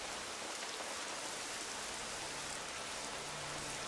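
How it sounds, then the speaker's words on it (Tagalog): Steady rain falls continuously on a surface, a dense even hiss with scattered drop patter and a faint low hum underneath, with no voices throughout. "Ulan yan."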